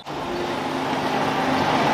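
Car passing on a road at a women's cycling race, Itzulia 2023, heard as a steady, close engine and tyre roar that swells slightly over two seconds with no talk.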